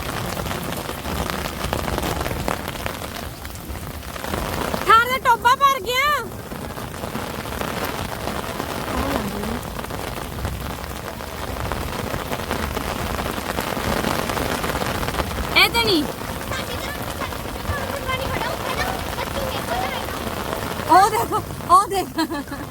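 Rain of the first monsoon downpour of the Sawan month falls steadily in a continuous wash, with a few brief voices breaking through now and then.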